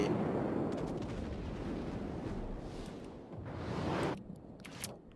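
Naval gunfire from a heavy cruiser, the Admiral Hipper, in the World of Warships game: a dense, booming barrage rumbling steadily for about four seconds, then dropping away into a few quieter thuds.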